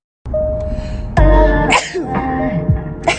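A person sneezes once, loudly and close, a sharp burst followed by some breathy vocal sounds and a fainter second outburst.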